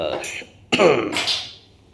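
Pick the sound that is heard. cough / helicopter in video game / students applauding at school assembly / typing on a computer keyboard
cough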